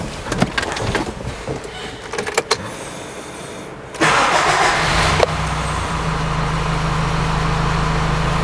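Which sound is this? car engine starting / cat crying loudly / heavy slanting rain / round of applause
car engine starting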